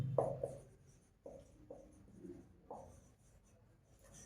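A pen writes on paper during a set-theory maths exercise, with a few short scratchy strokes and pauses between them. The sound is quiet and close, with no talk over it.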